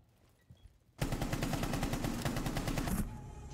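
Rapid automatic gunfire from a Rainbow Six match, a loud sustained burst of closely spaced shots lasting about two seconds before dropping back to quieter game ambience.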